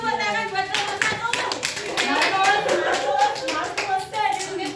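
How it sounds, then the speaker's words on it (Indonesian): Children clapping in a classroom during a micro teaching lesson, brisk, fairly close handclaps with young voices talking and calling out over them. "Beri tepuk tangan buat nomor 1"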